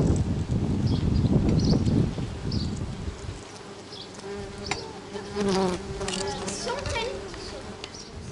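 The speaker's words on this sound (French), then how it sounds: "Voilà, nid guêpe." Wasps buzz busily and loudly at close range at their nest in a roof, a dense continuous drone with rustling and scraping mixed in.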